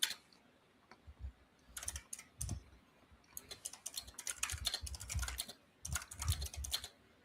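Typing on a computer keyboard during a late meeting, bursts of quick close key clicks separated by short pauses, with soft breathing and low bumps in the quiet room.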